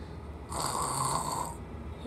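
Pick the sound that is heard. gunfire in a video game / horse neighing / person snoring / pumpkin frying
person snoring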